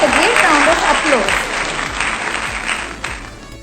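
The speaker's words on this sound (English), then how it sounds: "So let's call someone very special to this video with a great round of applause." Loud applause fills a room at a casual friends' challenge recording, starting strong and tapering slightly, with voices and cheering mixed in over the clapping.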